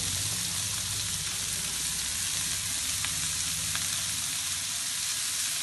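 Finely chopped ingredients sautéing in a frying pan with salt, a steady close sizzle with occasional light scrapes and stirs, and no talk.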